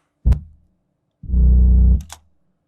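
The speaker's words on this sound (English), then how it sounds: "Then I distort it with the Decapitator." A sound distorted with the Decapitator plugin: a heavily distorted, gritty low thump followed by a sustained buzzing, saturated tone lasting under a second, then a short crackly tail.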